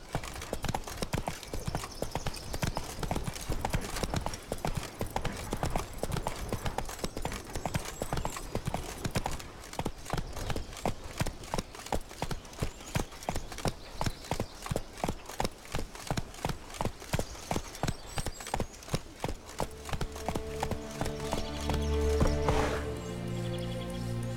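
Geralt's horse Roach from The Witcher 3 gallops steadily and loudly across White Orchard, with rapid rhythmic hoofbeats close by throughout. Music swells near the end.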